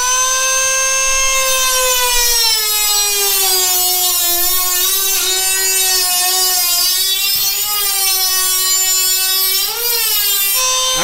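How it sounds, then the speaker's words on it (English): A reciprocating saw (Sawzall) cuts a hole through a shop wall for a cat door. Its motor holds a loud, continuous, close-up whine that shifts slightly in pitch as the blade works through the material for about eleven seconds. "I'm just gonna cut a hole to get the Sawzall in there."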